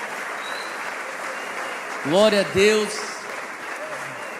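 A church congregation applauds in a steady wash of clapping that fills the hall, while a voice calls out briefly over it.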